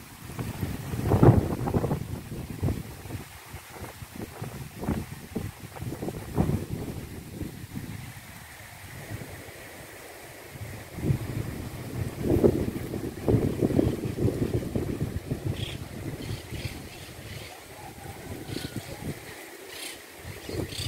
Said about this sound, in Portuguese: Olha só, pessoal, olha o vento.